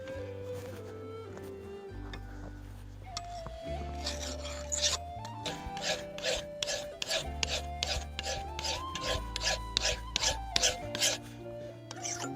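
A forged steel knife blade locked in a vise being filed to profile, with rhythmic rasping strokes that start slow and grow into a steady, regular back-and-forth over background music.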